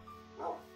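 A single short dog bark from a game, brief and moderately close, with a faint steady background hum.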